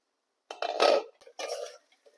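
Metal kitchenware clatters as a lid is set onto a frying pan of sweet potato cooking in oil, a couple of clanking contacts followed by a brief scrape, fairly close.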